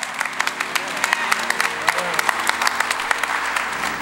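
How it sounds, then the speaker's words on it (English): Audience applause for a gospel music group at a church spring concert, a steady wash of many hands clapping with crowd noise and a low hum underneath, fairly loud and sustained. "Let's give them a round of applause."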